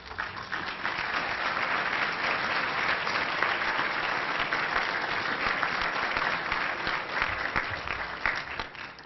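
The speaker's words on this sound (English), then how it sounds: "we will give you a round of applause" An audience at a Kansas gubernatorial debate breaks into a sustained round of applause: many hands clapping in an even, continuous wash that holds steady throughout, with no talking over it.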